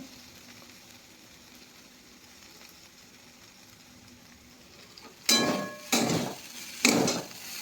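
Chowmein being stirred in a pan with chilli sauce, soy sauce and chillies; after a quiet stretch of low sizzling, three loud scraping, clattering strokes of tossing and mixing come in quick succession near the end.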